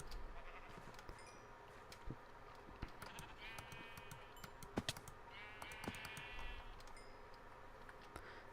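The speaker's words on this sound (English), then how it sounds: "I just murdered those sheep" Sheep in a video game let out several short, thin bleats, faint and spaced apart, amid light clicking and scattered tapping sounds.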